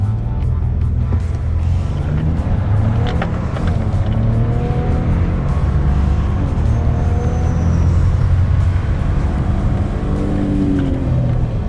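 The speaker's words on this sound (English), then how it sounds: "I'm gonna brake torque it again." A car holds a loud, steady engine drone under brake torque and then launches on an acceleration run, with engine pitch sweeping upward through several gear changes. The sound is close and continuous.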